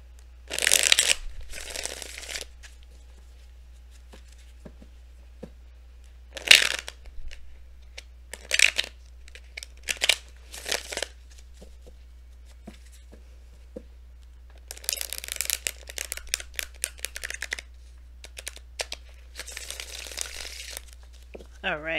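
Tarot cards being shuffled by hand in bursts of crisp riffling and crinkly flicks, several separate rounds across the stretch, close and fairly quiet with pauses between.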